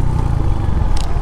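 Buzzing rattle from the leg guard of a Royal Enfield Hunter 350 on a newly built road, a steady close vibration riding over the continuous low engine drone, with a brief brighter rattle burst near the end.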